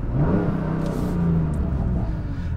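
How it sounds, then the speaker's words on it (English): A BMW F80 M3 with the S55 twin-turbo engine drones through its exhaust, a loud, close, low rumble that rises slightly in pitch and then holds steady, heard without any talking. "You hear that? That's the exhaust. I wanted you guys to hear what that sounded like."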